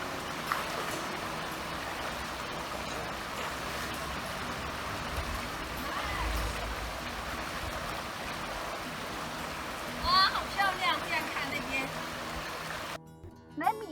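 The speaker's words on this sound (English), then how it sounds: "Let me lay down and listen the water a while." A mountain stream along the Blue Ridge Parkway flows with a steady, broad rushing wash, with a few brief voices near the end before the water sound cuts off.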